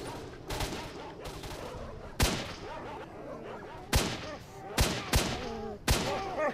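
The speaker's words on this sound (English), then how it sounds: "As you can hear from all the gunfire." Sharp gunshots crack out one at a time in the S.T.A.L.K.E.R. game, about six loud, separated reports spaced irregularly across a few seconds, over a busy background with some speech.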